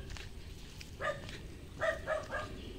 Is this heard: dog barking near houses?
yes